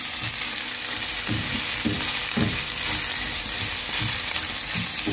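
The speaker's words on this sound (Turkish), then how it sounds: "Ve bunu iyice karıştıracağım." A mixture seasoned with chili flakes and black pepper is stirred in a sizzling pan, with soft rhythmic scraping strokes repeating under a steady frying hiss, close and moderately loud.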